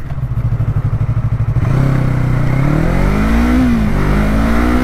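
A 300cc motorcycle idles with a rapid putter, then the throttle opens fully and the engine climbs through a rising rev, loud and close, with no talk.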